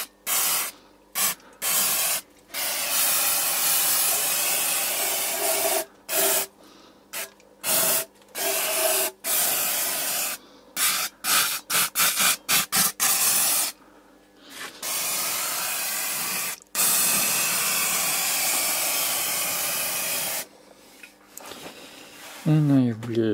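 Repeated bursts of aerosol spray on a 1960 Opel Kapitän P 2.6L, short hisses and longer sustained blasts with brief pauses between, close by.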